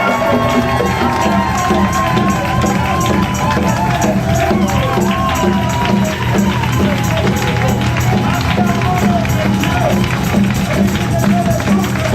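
A church congregation cheering and acclaiming together in a loud, sustained roar of voices, shouts and movement that fills the room without a break.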